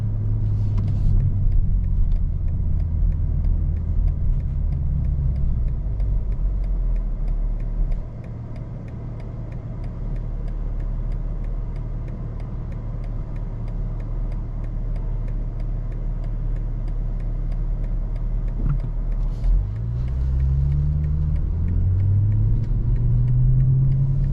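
Steady low rumble of a 2024 BMW M440i Coupé engine while driving, constant and close, with a brief dip and a rising rev near the end.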